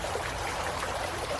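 A small creek flows steadily nearby, a continuous babbling trickle of water at moderate volume with no voices over it.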